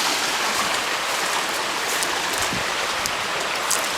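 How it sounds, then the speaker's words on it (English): Creek water rushes and splashes steadily, a dense close wash of flowing water with no talk over it. "Now I'm just taking a walk through the creek"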